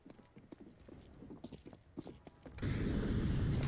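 Rhythmic footsteps patter in a CS:GO match, a quick series of light thuds and clicks, moderately close, before a louder burst of gunfire noise takes over.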